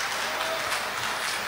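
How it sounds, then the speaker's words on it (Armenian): A room of guests at a family celebration claps steadily, a dense, even patter of applause that fills the whole moment. "ծափարությունները խնդրեմ"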